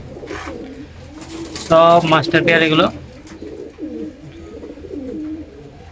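Male flying pigeons cooing in a home loft in Bengal, soft low coos running throughout, with someone talking over them and a brief louder burst in the middle.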